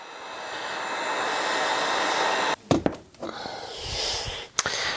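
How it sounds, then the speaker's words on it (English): A heat gun blows on a leather bag strap, a loud, steady whooshing roar that drops out abruptly, then returns in short uneven bursts as it is switched and moved. "So we're gonna dry this real quick with the heat gun."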